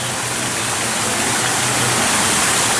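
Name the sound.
zoo exhibit waterfall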